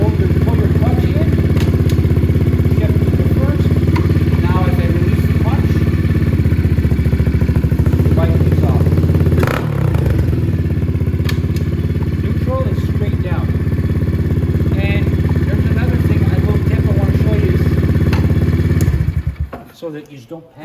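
A new Venom dirt bike engine idles steadily and loudly up close while someone talks over it, the hum continuing through gear shifts before cutting off near the end.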